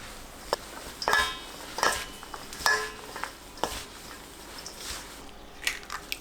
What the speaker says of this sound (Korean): 상추, 양파, 고추, 감자 전분 100g 넣고 골고루 섞어주세요